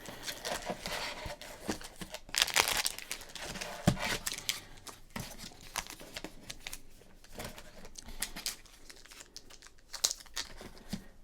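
Crinkling and tearing of a 1993 Flair trading card pack wrapper, close and quiet, with irregular crackles and one sharper rip partway through, no talking.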